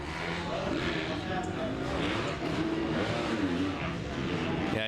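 A Yamaha 2-stroke 250 motocross bike races around a dry track with sand sections at a professional event, its engine buzzing and revving steadily throughout, with a commentator talking over it.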